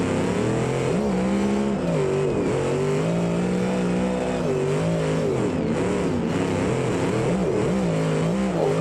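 A car driving a lap in BeamNG, engine droning loud and close throughout, revs rising and dipping with shifts and throttle changes.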